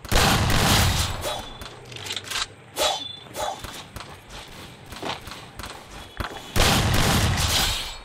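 M1887 shotgun fire in a video game training ground, loud repeated booming blasts in clusters with brief gaps between bursts, dense and close.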